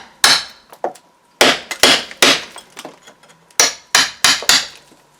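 Sharp, hard knocks strike the plaster along a rusty angle bead while the outer edge is cut away, about a dozen loud, close impacts in irregular bursts with brief crumbling debris between them.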